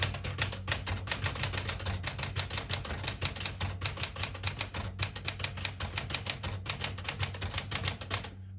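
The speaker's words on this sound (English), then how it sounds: "I'll type a sentence in red on the next line." A 1973 Smith-Corona Classic 12 portable typewriter types a line in red ribbon: a quick, steady run of sharp mechanical key strikes, up close and alone, with brief pauses between bursts.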